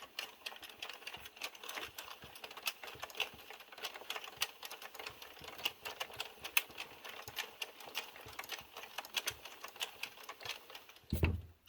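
An Addi or Sentro circular knitting machine cranked while casting on a beanie, giving a fast, irregular train of light plastic clicks and clacks close by, with a louder knock at the very end.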